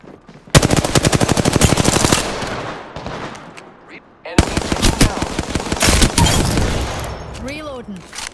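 Video game gunfire rattles in loud rapid automatic bursts, with a short pause between two long strings of shots and a descending electronic warble at the end.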